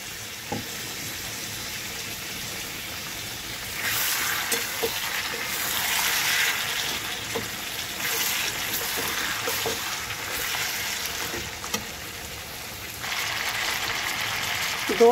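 Mutton pieces go into a pan of sizzling spice paste, giving a rising hiss of frying that swells and fades in waves, with scattered clinks and scrapes.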